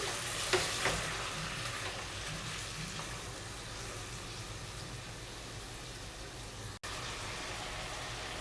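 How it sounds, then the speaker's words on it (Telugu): Tomatoes and green chillies fry in a pan with a continuous close sizzle, broken by a few light stirring scrapes near the start and a brief cutout toward the end. "టమాటో వేసిన తర్వాత ఇవన్నీ ఒకసారి బాగా మిక్స్ చేసుకోండి"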